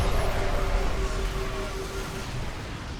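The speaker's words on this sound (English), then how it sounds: "And then now I throw away a whole army into his 6 siege tanks." A large battle against siege tanks in the real-time strategy video game StarCraft II, a dense, continuous wash of explosions and weapon fire with a steady rumble throughout.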